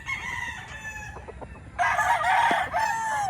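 Kelso gamefowl rooster kept for breeding gives a loud, close crow that swells midway, with a few short clucks in between.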